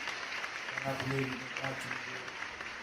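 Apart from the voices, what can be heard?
audience applause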